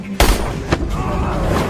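Gunfire in a Korean film action scene: a sharp, loud shot followed by a second, smaller report, with rumbling cinematic noise carrying on under them.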